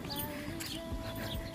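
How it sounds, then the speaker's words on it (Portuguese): Birds chirp faintly in a park, with thin tweets and calls scattered over a busy, low background hum of outdoor noise. "Isto é um parque lindíssimo, conseguem ouvir os pássaros."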